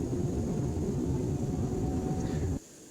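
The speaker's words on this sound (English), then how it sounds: "the sound of the hydraulics is synchronized with the animation of the flaps" Hydraulics of a JARDesign A330 extending its flaps in X-Plane give a steady, loud, low whir and rumble over the airliner's cabin drone, cutting off abruptly near the end.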